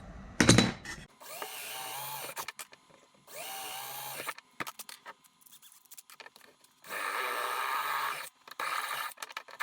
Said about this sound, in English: easy for the drill bit to drill through and guide its way, not get off course.